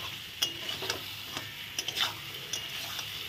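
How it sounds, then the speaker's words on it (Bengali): Pointed gourd and spices are stirred in a frying pan, a quiet sizzle underneath scattered light clicks and scrapes of a utensil against the pan, with no talking. "দেখো পটলের সঙ্গে একটু নেড়ে চেড়ে নিয়েছি।"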